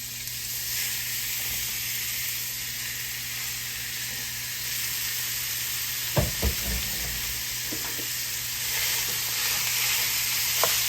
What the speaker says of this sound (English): we're gonna brown this ground meat off here